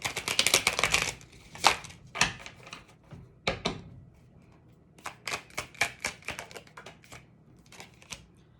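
A Chicoli tarot card deck being shuffled, giving bursts of quick riffling and slapping card sounds in close clusters separated by brief pauses, with no talking.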